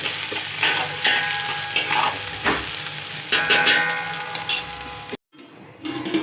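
Chicken frying in a pot for dum biryani with fenugreek leaves, a loud steady sizzle broken by repeated stirring scrapes, ending in a brief silence before the frying resumes.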